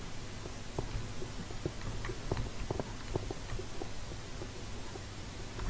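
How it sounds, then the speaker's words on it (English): Footsteps in Minecraft sound as faint, steady, evenly spaced taps over a low ambient hum, with no one talking. "I just hear footsteps"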